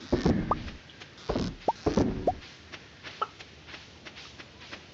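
Chickens on a farm in the video game Stardew Valley: several short, soft clucks and chirps in scattered bursts, near and fairly quiet, with small game sounds between them and no talking.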